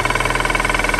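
A diesel car engine is held at raised revs, a loud, close, steady pulsing drone that does not change pitch, with no voices.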